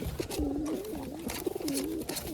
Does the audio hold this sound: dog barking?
no